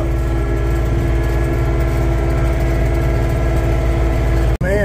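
John Deere 3046R compact tractor engine held at about 2,200 RPM, a steady loud diesel drone with even low pulsing throughout, ending in a sharp brief click near the close.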